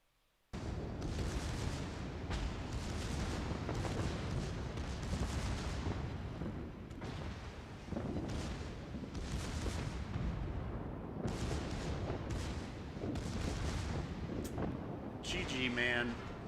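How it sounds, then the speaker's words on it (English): Secondary guns aboard a warship in a naval video game fire continuously, a dense rolling barrage of booms and blasts lasting throughout, loud and close, with a sharper crackle near the end. "Just look at all these secondaries firing."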